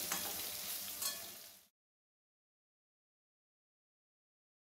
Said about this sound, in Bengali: আমি মাছের তেলেই কিন্তু বেগুনগুলো ভাজছি।